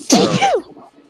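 A single sharp, loud sneeze close to the listener, quick and explosive, trailing off into a short breathy sound.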